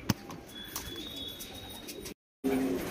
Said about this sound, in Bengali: এই যে সেই কোয়ালিটি পায়রা দেখুন, পায়রাদের কোয়ালিটি আলাদা